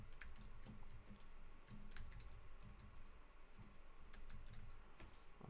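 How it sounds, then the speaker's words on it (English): Steady, fast typing on a computer keyboard, continuous clicking keystrokes at close range with no voices over it. "I need help with my typing skills"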